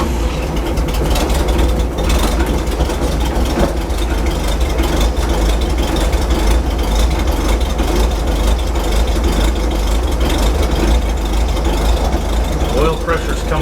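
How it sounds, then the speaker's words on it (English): A carbureted engine runs steadily after a fuel system check, a loud, continuous low rumble that holds even throughout with no pauses, with a voice speaking over it. "It's engine starting to smooth out."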